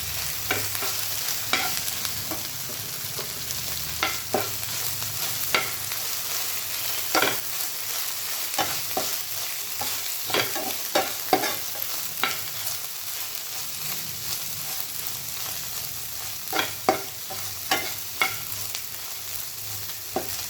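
Chili powder being stirred into okra frying in a pan, a steady sizzle under repeated sharp scrapes and clacks of the spoon against the pan, fairly close, with no talking.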